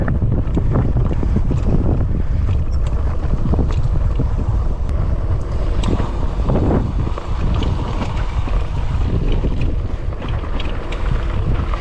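Strong wind roars and buffets the microphone continuously on a hill while riding an e-bike, a loud low rumble with gusty rushing and no voices.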